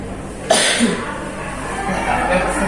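A single short cough bursts out near the microphone, followed by quiet room noise.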